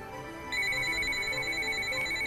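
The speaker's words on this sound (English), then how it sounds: "The IP phone calls a gateway, checks the prefixing through to the cellular phone." A cellular phone rings with an incoming call routed from an IP phone through a 4-channel VoIP-to-GSM gateway. A steady electronic ringtone starts after half a second and carries on evenly, with no talking.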